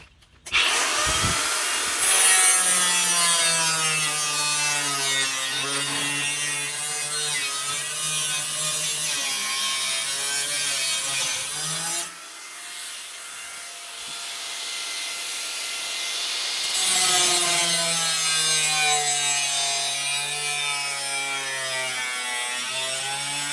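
Luggage rack parts are cut out by hand with long rhythmic strokes, a steady back-and-forth rasp that pauses briefly midway before resuming.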